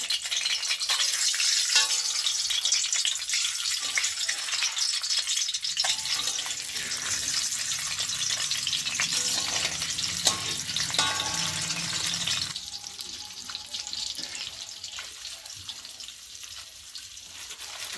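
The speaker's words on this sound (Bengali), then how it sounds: "ডিমটা লবণ হলুদ দিয়ে ভাজছি" Eggs frying in a pan with salt and turmeric give a steady, close sizzle that crackles on for about eighteen seconds, easing a little toward the end, with no talking.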